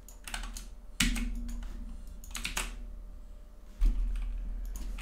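Keys clack on a computer keyboard as a zip code is entered, a few short bursts of close, crisp keystrokes separated by pauses, with a couple of louder thumps and no talk.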